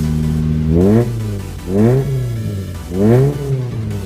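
A 1995 Toyota Starlet with a 1.3-litre engine and the air conditioning running revs three times. The idle rises sharply each time, then falls back in distinct swells, close and loud, with no talk.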